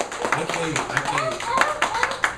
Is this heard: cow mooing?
no